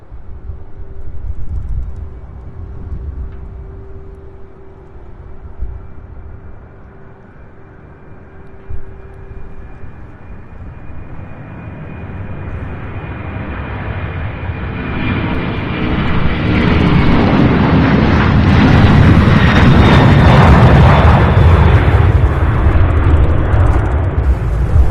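A UPS cargo jet bound for Miami takes off at Louisville International Airport, its engines rising from a distant whine to a loud, broad roar that builds and holds near the end.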